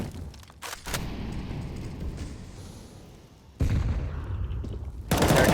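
Gunfire in Counter-Strike on the map Nuke, a sustained rumbling roar of shots with sharp bursts early on and two louder volleys near the end.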